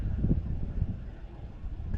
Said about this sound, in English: And it was windy as well.